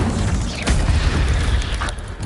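The Incendio fire spell in Hogwarts Legacy blasts with a loud, booming whoosh, followed by a roaring, crackling rumble that swells again before fading.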